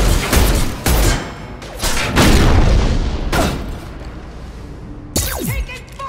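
Booming gunfire and blasts from a Mass Effect 2 Legendary Edition firefight, loud bursts of shots and impacts one after another, with a sweeping whoosh near the end.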